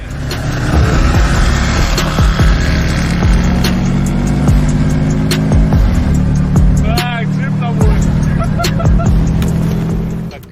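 Silver Subaru Forester racing a manual-transmission Golf, a loud steady engine drone with rising revs heard from inside the car, with people talking throughout.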